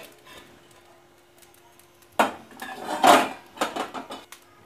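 Roasting eggplant flipped over in a pan on a gas stove, giving a few sharp metallic clatters and scrapes of utensil against cookware, close and fairly loud, over a quiet background.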